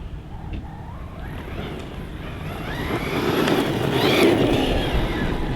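A Team Corally Jambo RC stunt truck running on a 4S battery whines at a distance, its electric motor pitch sweeping up and down as it accelerates and grows louder toward the end.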